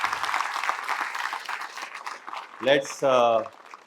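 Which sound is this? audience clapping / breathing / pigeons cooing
audience clapping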